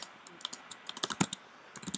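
Fingers tapping out a destination on a computer keyboard, a quick uneven run of close, crisp key clicks in short bursts with a brief pause before the last few strokes.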